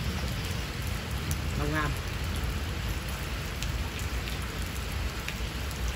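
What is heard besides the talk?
rain falling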